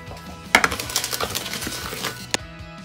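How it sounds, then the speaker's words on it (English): Dry ingredients, sugar and flour for a carrot cake, being stirred together in a bowl, giving a quick run of clinking and scraping strikes with one sharp knock near the end. No voices. "And now, mix those dry ingredients"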